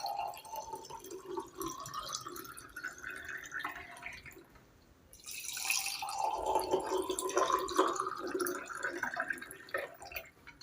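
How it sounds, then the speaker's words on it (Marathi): Water poured into a lemon juice mixture of sugar, grated ginger and salt, heard as a steady liquid trickle with drips, close up and moderately loud, with no talking. "आता आपण याच्यामध्ये पाणी घालूया"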